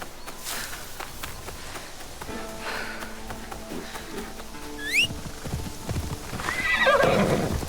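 Hooves clip-clop steadily before a horse gives a loud whinny near the end, set against light outdoor ambience, in the video game Assassin's Creed Shadows.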